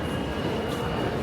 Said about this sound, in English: So this is the train that just left.